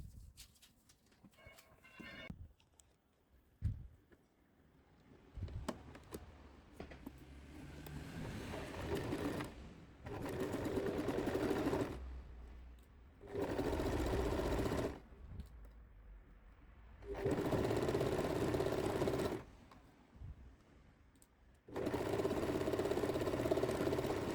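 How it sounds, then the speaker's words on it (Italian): A sewing machine stitches a French seam on a blouse, running in several distinct bursts of motor whirr separated by quiet pauses and small handling clicks. "Metto il rovescio sul rovescio e gli fisso coi spilli e cucio a circa una larghezza piedino."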